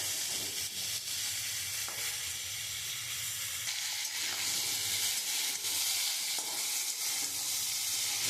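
Pieces of green banana, potato and onion sizzle loudly in oil while a spatula stirs them, and several scraping strokes break through the constant frying hiss. No voices are heard.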